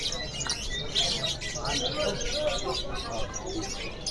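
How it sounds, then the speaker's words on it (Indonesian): A bright-coloured loper canary sings with continuous chirps and trills at a bird shop, mixed with other birds and background noise throughout. "Ini kenari loper cerah ya."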